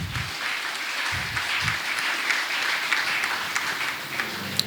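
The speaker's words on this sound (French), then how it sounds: "Est-ce que l'église a applaudi, bon Dieu, pour eux-mêmes encore?" A church congregation applauding during a service, broad sustained clapping heard from a short distance, moderately loud and even, with a few sharper claps near the end.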